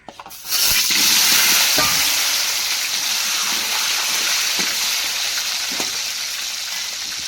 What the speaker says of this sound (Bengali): গরম হয়ে গেছে আলুটা ভাজা দেব